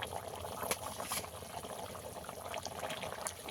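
Fish curry broth simmering in a pan, a soft continuous bubbling and faint liquid trickle, quiet and close with small pops, no voices.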